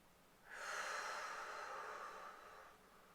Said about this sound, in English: let's take a couple of deep breaths like that.